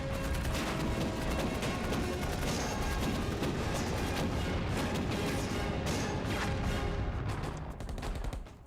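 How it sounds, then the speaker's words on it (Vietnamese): Battle scene from a Chinese anti-Japanese war action drama, with continuous dense artillery and gunfire blasts at high intensity, a relentless roar of explosions and shots with no pauses. "cũng nên đến lượt chúng ta rồi nổ pháo"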